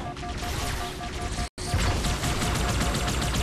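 Sustained gunfire crackles in a Halo Master Chief Collection firefight on Xbox One, dense and continuous shots with a brief dropout midway before the loud barrage resumes.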